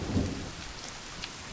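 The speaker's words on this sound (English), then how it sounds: "And now it's raining." Steady rain hisses in a forest survival game, The Forest, with a low rumble of thunder rolling near the start of a short stretch and no voices.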